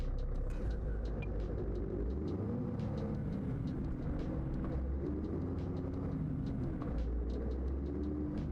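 A Scania Super bus engine rumbles steadily and close by throughout, its deep drone rising and falling in pitch as it revs, with no other sounds over it.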